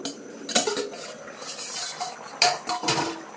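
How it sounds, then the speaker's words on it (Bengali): A lid lifted off a cooking pot of Bengali fish curry with taro, giving a couple of metallic clinks and scrapes, one early and one later, amid faint kitchen clatter. "এবার আমি ঢাকনাটা খুলে দেখবো"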